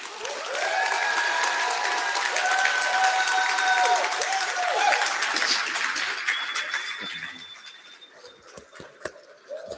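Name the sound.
audience applause for keynote speaker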